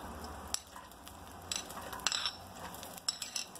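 Chopped onion dropped into hot oil in a pan for a green salsa with eggs and cheese, giving a soft steady sizzle with a few light clinks and stirring scrapes, fairly quiet and close.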